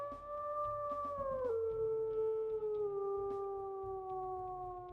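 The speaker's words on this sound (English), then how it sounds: "let's go ahead and we'll listen to his howls." A wolf in the video game WolfQuest lets out long, clear howls, one sustained tone that bends downward partway through and then holds at a lower pitch, alone and fairly prominent over a faint low rumble.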